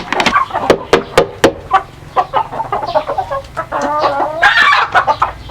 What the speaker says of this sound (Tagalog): Kasi yung mga manok na Brahma yan, may bigay na rin tayo.